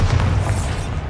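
Explosive Bombarda spell blast in the Hogwarts Legacy game, a single loud, continuous boom with heavy low rumble lasting about a second.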